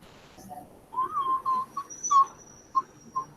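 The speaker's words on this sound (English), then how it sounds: "Somebody's whistling." A person whistles a short, wavering tune of several clear notes, close and fairly loud against a quiet background, with a few brief pauses between phrases.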